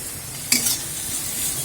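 Onions sautéing in a hot pan: a steady, close sizzle with a brief scrape of stirring partway through.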